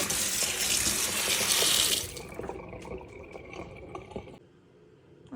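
Wild spiny cabbage shoots, freshly picked, washed under running water in a sink: a steady, fairly loud gush and splash for about two seconds, then quieter dripping and sloshing as the greens are handled, with no talk.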